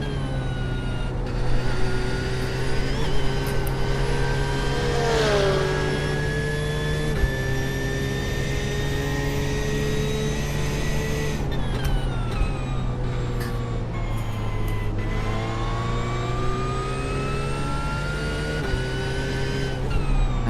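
A GT3 racing car engine in the iRacing video game, droning at steady high revs with pitch dropping at gear shifts and climbing again, loud and continuous throughout.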